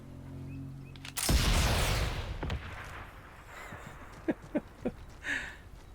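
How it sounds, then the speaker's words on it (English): Gunfire in the video game Sniper Elite 5: a loud, booming shot with a long rolling echo, followed moments later by several sharper, shorter cracks at a distance. "Gunshot heard."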